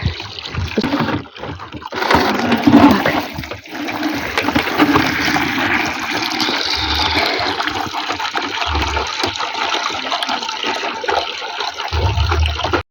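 Water gushes steadily into a container while fetching water outdoors, a continuous close splashing pour that runs throughout with a few low thumps, and no talking.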